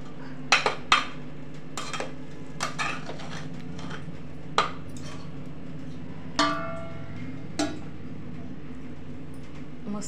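A spoon stirs cooked rice and soybeans in a cooking pot, clinking and scraping against the metal in about a dozen irregular knocks over a low, steady background hum.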